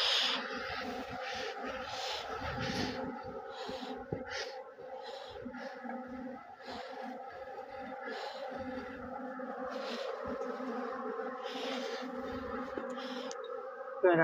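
Honey bees buzzing around a village hive in Nepal while honey is checked, a close wavering drone with individual bees passing near, faint voices in the background.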